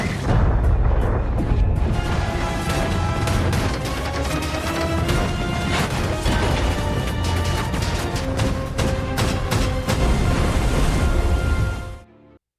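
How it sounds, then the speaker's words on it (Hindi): Warship gunfire and explosions from the World War II naval film Greyhound: a dense, continuous barrage of heavy booms and crashes, loud and sustained before cutting off sharply. "ग्रेहाउंड लगातार फायर करता है और आखिरकार दुश्मन को तबाह कर देता"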